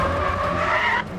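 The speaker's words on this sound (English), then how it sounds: "This is just the skids." Tires skid in the racing video game Need for Speed: The Run, a brief, close, high squealing screech held steady for about a second before trailing off.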